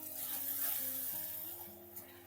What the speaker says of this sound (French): Commence à fumer. Je vais pouvoir rajouter la crème.